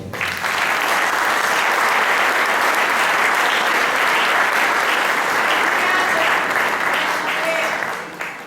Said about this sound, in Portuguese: Quem entendeu, aplaude ao Senhor.